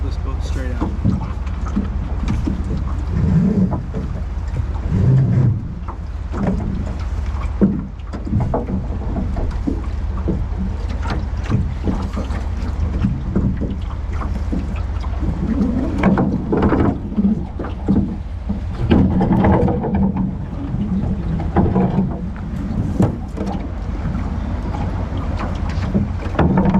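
A boat moves through river water in Alaska with sloshing and rumbling, wind buffeting the microphone, and voices talking intermittently throughout.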